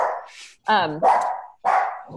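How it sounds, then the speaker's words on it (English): Excited dog barking in short sharp bursts, three or four loud close barks with brief gaps, some growly and yelping in tone, with no talk over them. "My dog's going crazy."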